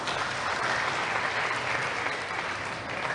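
An audience at a school English debate between AN-NUR and CSJO claps continuously, a dense, even wash of hands that stays level throughout, fairly quiet and without speech.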